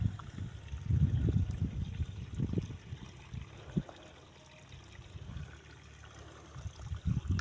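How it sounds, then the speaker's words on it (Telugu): Water trickling through channels cut between plots of a sown paddy field, a soft steady flow with low gurgling pulses, fairly close, continuous without any talk. "నీళ్ళు ఒక మడి నుంచి ఒక మడికి ఇలా తీసివేసిన నీళ్ళు"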